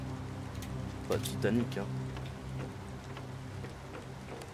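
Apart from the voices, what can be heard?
rain in the video game Planet Crafter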